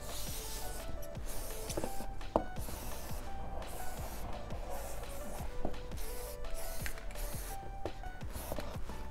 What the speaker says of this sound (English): I'm just gonna put a piece of cardboard and spray on the lubricant.